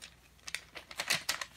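Shrink wrap over a packaged set of dominoes crinkles faintly in a quick, irregular series of rustles, growing a little busier toward the end.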